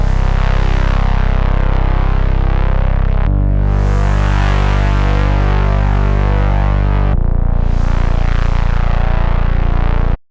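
A Moog-style bass drop built in the Serum synth, modeled on a track, with heavy, distorted sustained tones changing in three sections and a pulsing final part, loud and dense, ending abruptly.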